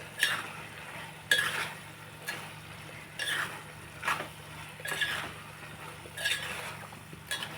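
A spoon scrapes repeatedly through cauliflower and tomato curry in a pan, in quiet strokes about every second, with a faint sizzle underneath and no voices.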